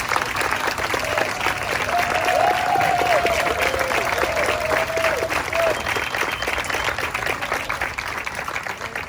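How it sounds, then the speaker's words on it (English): Applause from the audience at a hospital ribbon cutting greets members of a local family, a steady wash of clapping throughout with a voice briefly audible underneath. "would you please stand and let us give you a warm round of applause"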